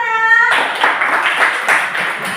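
A classroom of students claps together, a dense, steady burst of many hands at moderate distance that follows a brief tone and fills the rest of the moment.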